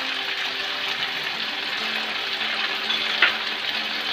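Chicken chilli frying in a pan after salt has been added, a steady, fairly soft sizzle running throughout with one brief clink of stirring near the end.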